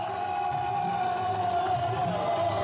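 A crowd cheering in the stands at the India-Pakistan flag-lowering ceremony at the Wagah border: a dense, continuous roar of many voices with a steady sustained tone over it.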